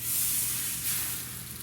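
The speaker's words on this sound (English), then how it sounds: "Listen to that sizzle." A steady, faint sizzle hisses continuously from naan cooking in a hot cast iron pan, a soft broadband crackle with no voices over it.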